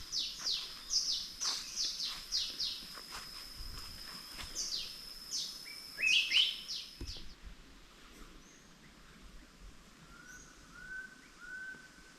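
Birds sing in a forest, a run of bright whistled chirps and rising calls close by for the first half, then thinning to a few faint, distant calls over a quiet background hum.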